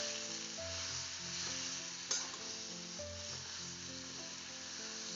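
Tamarind pickle mixture with jaggery being stirred in a pan over a steady faint sizzle, with one brief clink of the utensil midway, quiet and with a low background hum.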